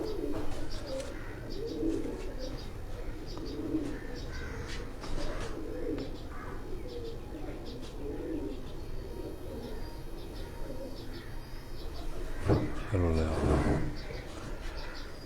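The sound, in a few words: pigeons cooing on a rooftop loft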